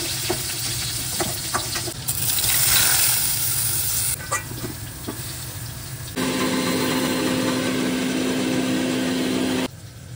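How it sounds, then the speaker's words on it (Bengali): Paneer sizzles steadily in hot oil in a pan, with occasional stirring scrapes and a constant loud frying hiss and no talking. "আমি এখানে আবার একটু পনির ভাজবো"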